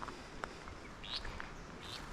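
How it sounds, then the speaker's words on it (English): A restless flycatcher perched on a branch in open woodland gives short, thin, high calls, a few separate notes spaced through a quiet outdoor background, fairly faint and somewhat distant. "Hear that call? Restless flycatcher."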